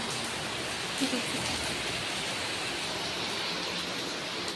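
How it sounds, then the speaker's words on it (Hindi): Heavy rain pours down at a home in India, a steady dense hiss of falling water that stays constant throughout with no talking. "बहुत तेज़ बारिश हो रही, बहुत तेज़ हो रही है"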